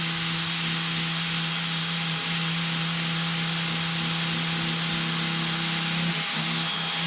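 A bench grinding wheel being redressed during restoration of a 1923 GE 16-inch fan blade gives off a loud, steady whine and hiss with a constant motor hum, unbroken and close, with no talking.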